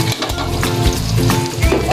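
Garlic frying in a pan for sarsiadong pampano, a loud close sizzle and crackle of oil that continues steadily, with some voice-like tones mixed in.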